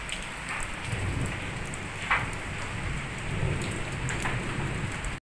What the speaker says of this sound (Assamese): বাহিৰত ধুমুহা আহিছে